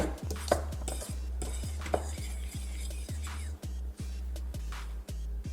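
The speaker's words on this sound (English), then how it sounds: "we're going to mix this up with a fork for a few seconds" A fork stirs flour, sugar and salt in a bowl, rapid rhythmic clinks and scrapes against the sides repeating steadily, close and moderately loud with no talking.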